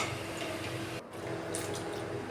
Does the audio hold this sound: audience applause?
no